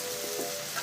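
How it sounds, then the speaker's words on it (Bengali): Spices and coconut frying over low heat for chana masala, a short, close, even sizzle with faint crackles, no voices. "আমি কিন্তু মশলাগুলো সব আঁচটা কমিয়েই ভাজছি"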